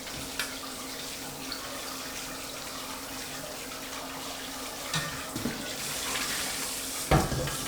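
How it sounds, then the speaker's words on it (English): Water from a pot of simmered shallots pours steadily into a kitchen sink as they are strained, a continuous moderate splashing rush with a few small knocks near the end. "I am going to go and strain them."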